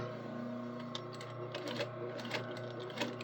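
A sewing machine topstitches along a fabric fold and back stitches, its needle whirring in a steady close mechanical buzz with a few clicks of direction changes.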